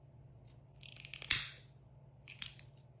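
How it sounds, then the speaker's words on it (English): A single crisp snip of scissors cutting through satin rat tail cord yarn at a crochet backpack, loud and close, with a fainter snip about a second later and no talk. "We're going to cut this yarn."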